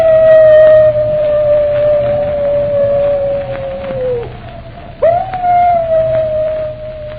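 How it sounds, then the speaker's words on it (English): In a radio drama, a wolf dog lets out a long, steady, mournful howl that sags and fades, then a second howl swells up sharply after a brief pause, loud and close against a quiet background. "That howl, it's the wolf dog."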